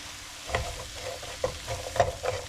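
Onion sizzling in olive oil in a skillet, a soft steady hiss broken by a few distinct stirring scrapes and clatters, close and fairly quiet.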